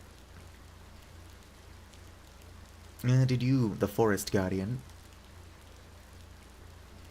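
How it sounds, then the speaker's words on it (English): Rain ambience in the video game Cattails: Wildwood Story, a soft steady hiss running throughout while a voice speaks briefly in the middle. "Yuck, this rain is getting my fur all wet."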